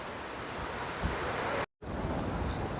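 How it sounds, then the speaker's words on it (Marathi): Sea waves surge and break against the shore beside Mumbai's Worli coastal road promenade, a steady, loud wash of surf mixed with wind buffeting the microphone, briefly cut by a moment of silence. "समुद्राच्या अशा सुंदर अशा ह्या लाटा इथे येऊन अशा उसळतात"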